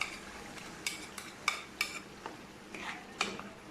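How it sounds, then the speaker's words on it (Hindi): Tomato paste goes into a cooking pot for tamatar gosht, a tomato and meat curry, bringing a series of light scraping and tapping spoon strokes against the pot, with soft, irregular clinks spaced over a few seconds and no talking. "ये टमाटर का पेस्ट डाल दिया इसमें मैंने।"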